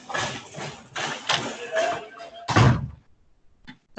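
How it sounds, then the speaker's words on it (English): A classroom door is pushed shut with a single solid thud after a stretch of talking, and the room goes quiet afterward. "I'm just going to shut the door"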